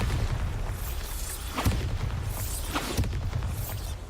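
The Bombarda blasting spell in Hogwarts Legacy sets off deep rumbling booms, with sharper bursts landing about every second and a half over a constant low roar.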